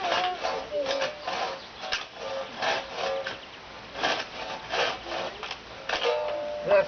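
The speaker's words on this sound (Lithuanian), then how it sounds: "Vau, matai, kokį pjovė. Su pjūklu." A hand saw cuts through wood with a steady back-and-forth rasp, strokes repeating every second or so at close range, with no voices over the strokes.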